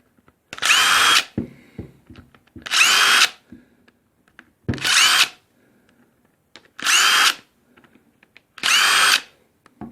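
A DeWalt impact driver backs screws out of a Panasonic EY7441 drill during a brush-replacement repair: five close, loud bursts of whirring and rattling, each about a second long, separated by short pauses.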